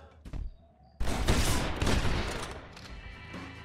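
Gunfire in the Western video game Red Dead Redemption: a sharp shot, then a loud, dense fusillade of overlapping rifle and pistol blasts that decays into echoing rumble, close and with no talk.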